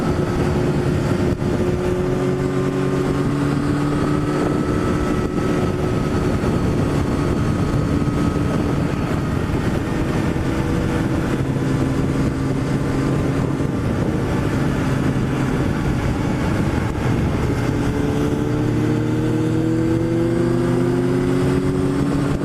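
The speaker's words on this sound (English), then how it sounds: "what's that? Lamborghini Countach." An exotic Lamborghini Countach passes by on a street, its engine note rising and falling in several harmonic sweeps over a steady loud rumble, with no talk.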